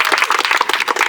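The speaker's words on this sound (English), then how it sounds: "Give a round of applause for Mr." Tour group claps for their guide at a cave, a short, close burst of rapid overlapping handclaps with no talking.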